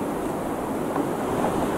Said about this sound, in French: T'as vu le vent qui fait ou quoi?